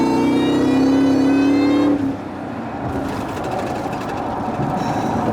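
A 2001 Ford SVT Lightning pickup engine revs hard with a rising droning whine, then drops back to a rough, rumbling idle.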